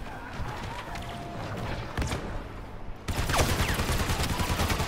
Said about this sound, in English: Heads up, grenade!